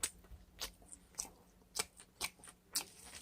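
Furikake rice seasoning brought from Japan, with anchovy, seaweed and sesame, is chewed close to the mic in about six crisp, evenly spaced crunchy bites, quiet and alone with no talking.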